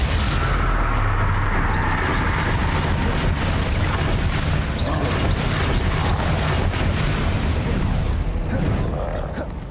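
Bombarda explosion spell cast in Hogwarts Legacy, a continuous loud rumble of blasts and booming impacts layered with game effects, dense and sustained throughout with faint voice in the background.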